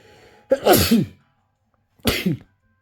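A person sneezes twice, close and sharp, with about a second and a half of silence between the two bursts.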